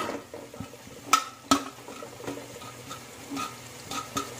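Frozen peas and sweet corn being stirred into vegetable fried rice in a pan, soft scraping and shuffling with a couple of sharp spoon clinks against the metal, faint sizzling underneath.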